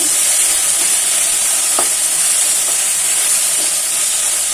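Tomatoes fry in a hot pan for tomato chitranna, a loud constant hissing sizzle with steam and a faint scrape or two, close up and without any talking.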